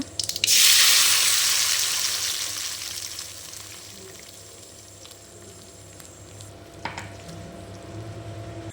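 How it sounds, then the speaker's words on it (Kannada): A loud sizzle bursts up as dried red chilies and curry leaves hit hot oil, then settles into a softer steady frying hiss with a few clinks and stirring sounds. "ಹಾಗೆ 2 ಒಣಮೆಣಸು, ಕರಿಬೇವು ಸೊಪ್ಪು ಹಾಕಿ ಫ್ರೈ ಮಾಡಿ."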